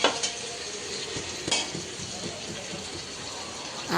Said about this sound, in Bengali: এখন এটা কিছুক্ষণ ভেজে নিব